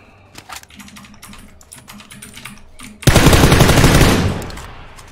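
A burst of rapid automatic gunfire in PlayerUnknown's Battlegrounds erupts loudly after a few seconds of quiet clicking, sustained for about two seconds before fading.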